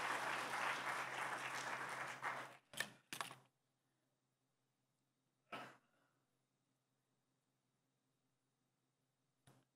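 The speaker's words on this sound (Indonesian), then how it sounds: "Tepuk tangan buat kemuliaan Allah Tuhan." Church congregation clapping in praise during a sermon, a loud burst of many hands that cuts off abruptly, followed by a few scattered sharp claps and knocks in a near-silent room.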